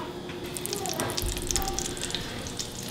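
Butter browns in a pan with a steady, close sizzle and fine popping crackles, continuous throughout with no voices.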